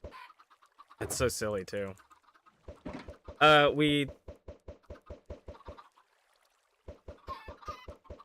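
Chickens clucking in Minecraft, a rapid run of short, evenly spaced clucks and pecking clicks that stops and then returns, with a person briefly talking over them.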